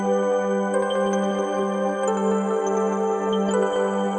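Bright synthesized bell tones from the Arturia V Collection 9 Bouncy Bells preset ring out over a sustained low drone, with a chime struck every half second or so, sustained and shimmering.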